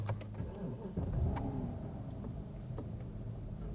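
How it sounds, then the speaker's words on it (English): A 2006–2010 BMW 550i engine starts and settles into a quiet warm-up idle, a low steady hum with a few faint clicks, heard alone without talking. "We want to start the car, let it warm up."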